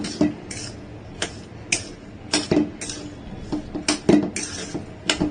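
A thick lentil dough is mixed in a metal pot, the spoon scraping and knocking against the sides in quick irregular strokes, close and fairly loud, with no talk.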